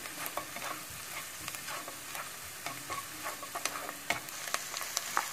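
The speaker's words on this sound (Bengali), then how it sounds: "বাটারে সামান্য বাটার আর হালকা তেল দিয়ে পেঁয়াজ, আদা, রসুন কুচি" Chopped onion, ginger and garlic frying in butter with a little oil, a soft steady sizzle broken by scattered spoon stirs and scrapes against the pan, fairly quiet and close, with no talk.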